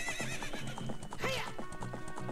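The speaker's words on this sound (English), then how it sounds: "I do like riding on a pony." A pony's whinny in Zelda: Ocarina of Time, one clear rising-and-falling neigh in the middle over steady clip-clop hoofbeats while the horse is ridden.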